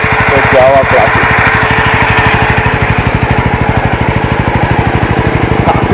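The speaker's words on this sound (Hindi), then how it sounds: "एग्जॉस्ट लोड तो आपको सुनाई दे रहा होगा जो कि इतना लाउड तो नहीं है" A Jawa 42 motorcycle engine idles close by with a steady, rapid thumping exhaust pulse that stays loud and even throughout.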